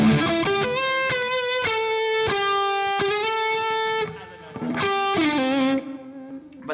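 Electric guitar played through a Soldano SLO 30 amp on its main channel, heavily distorted yet articulate, ringing sustained chords and picked notes with sharp attacks, loud and close with a brief dip before the final strums.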